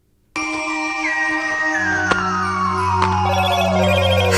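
Electronic ringtone from a Motorola flip phone, sharp bright tones starting abruptly and ringing steadily, with a sliding melodic line and repeated chime-like strikes, loud and close.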